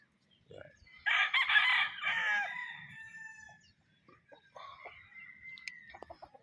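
Roosters of the white gold line crowing at a game farm, one long loud crow up close followed by shorter calls and clucks, with someone talking quietly in between.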